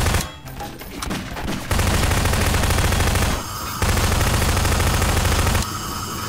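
Continuous loud blasts and rapid explosive bursts of bombs in Garry's Mod, dense and overlapping, with brief dips before the barrage resumes.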